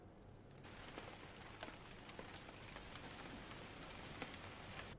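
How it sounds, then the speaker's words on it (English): Gentle rain falls steadily on leaves for a meditation backdrop, a soft, continuous patter with scattered nearby drops and no voices, even and unbroken throughout. "I want to add a nature sound. So in this case, I will pick probably like a rain sound, maybe a gentle rain"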